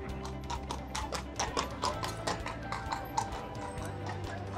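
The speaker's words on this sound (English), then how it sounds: "you can take a horse carriage ride through the city" Horse hooves clip-clop at an even walking pace as a carriage rolls over city streets in Bruges, Belgium, a clear rhythmic run of hard knocks, fairly close, over a faint murmur of town bustle.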